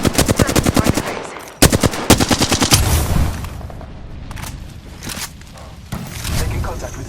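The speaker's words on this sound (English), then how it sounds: "I'm taking fire." Rapid automatic gunfire in the Apex Legends battle royale, loud repeated bursts of shots close by, with brief pauses between volleys and scattered impacts and movement sounds behind.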